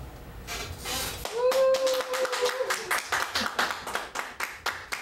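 Audience in a church service clapping in encouragement, a dense burst that thins into scattered individual claps, with a brief sung or spoken tone over the start.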